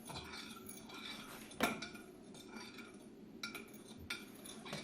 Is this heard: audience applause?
no